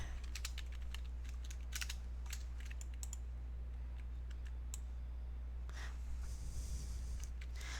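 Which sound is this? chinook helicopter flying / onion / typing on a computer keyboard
typing on a computer keyboard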